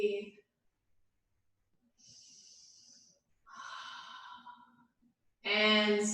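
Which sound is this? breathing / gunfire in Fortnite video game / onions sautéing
breathing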